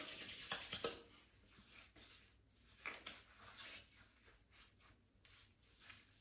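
Shaving brush whipping lather with Zingari's rescue potion, giving quiet, irregular wet swishing and rubbing strokes in uneven bursts, close and soft, with no talking.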